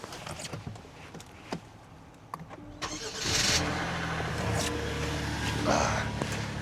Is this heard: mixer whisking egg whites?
no